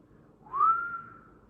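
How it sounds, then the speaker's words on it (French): A single whistled note from a person, rising quickly then holding and gently falling, clear and close in a quiet room, lasting about a second. "le sifflement"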